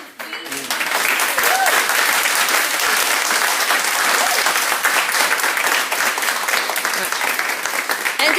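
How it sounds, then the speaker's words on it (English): Loud, sustained applause from an audience at a library event wrap-up, dense clapping that continues for several seconds, close and unbroken, with some cheering voices mixed in. "we need to give a big round of applause for Eileen for organising this."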